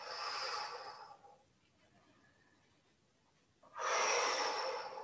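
Slow, calm breathing during a Qi Gong exercise, a long airy inhale through the nose, a quiet pause, then a full exhale through the mouth, close and clear with no talking.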